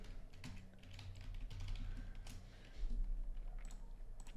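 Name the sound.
typing on a computer keyboard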